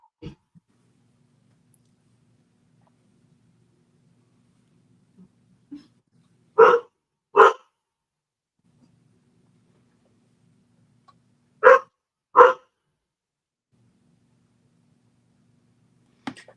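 A dog barks in a few sharp, separate bursts: two close together, then a pause, then two more, with one faint yip at the end. The barks sound fairly near against an otherwise quiet room.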